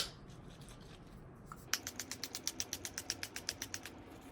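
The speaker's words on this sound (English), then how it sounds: "All we have left to do is spray our face" After a couple of faint clicks, a quick series of about a dozen short, evenly spaced hissing spritzes from a pump facial mist sprayer of coconut hydrating mist, close by.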